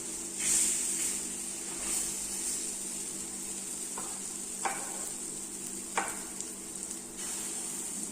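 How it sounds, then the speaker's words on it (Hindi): Small puris fry in ghee on a hot griddle with a steady sizzle, broken by a few sharp crackles and pops, close and continuous. "अब छोटे छोटे जो माता रानी के जो पूड़े हैं वो डाल देती हूँ पहले"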